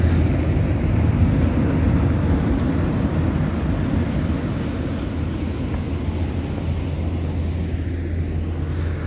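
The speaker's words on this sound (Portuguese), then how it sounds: "vindo aqui a balsa para o rio Curuçá" River ferry (balsa) arriving on the Curuçá river along the BR-319, heard as a steady low engine rumble mixed with wind buffeting the microphone, continuous and fairly loud, with no talk.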